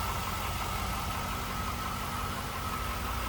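A 2002 Chevrolet Camaro Z28 convertible with dual exhaust and an added cold air intake idles steadily, a close, continuous low rumble with a dense, even texture and no other sounds.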